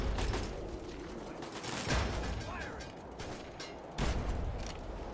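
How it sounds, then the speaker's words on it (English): Turret gunfire in a Fallout game comes as dense, continuous bursts over a mechanical clatter, with a sharper burst near the start and another around the four-second mark. "Oh, those are the turrets."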